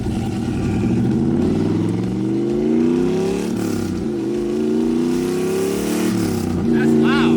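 A car engine revs hard and loud nearby, its pitch climbing and falling through several long pulls in a rising, throaty roar, with someone speaking over it.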